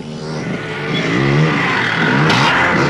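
An enduro motorcycle engine revs steadily and loudly on the course, rising in pitch as it accelerates, with a brief exclamation from a voice near the end.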